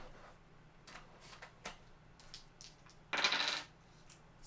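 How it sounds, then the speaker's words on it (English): Dice rolled by hand for a money game: a short, loud rattling clatter near the end, after a few faint scattered clicks and taps. "Alright, let's do roll the dice."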